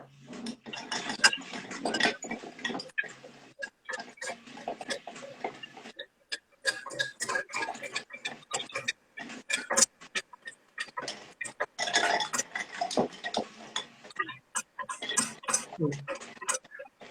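Bar spoon stirring a Boulevardier cocktail in a glass, giving light, rapid ticking clinks over about seventeen seconds, largely masked by a voice singing and talking along.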